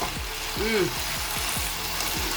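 Salted food frying in a pan for a pasta, chicken and vegetable dish, stirred steadily: a constant sizzle with a series of scraping strokes, close up, with a brief squeak partway through.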